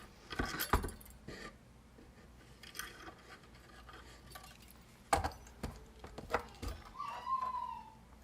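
A metal file scrapes across a metal design in short, sharp bursts, bright rasping strokes separated by quiet pauses, close by.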